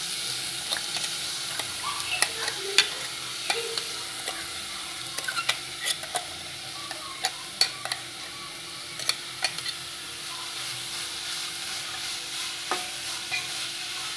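Grated carrot frying and being stirred in a pan for gajar halwa, a soft steady sizzle broken by repeated sharp scrapes and taps of the spoon, close, with no voices.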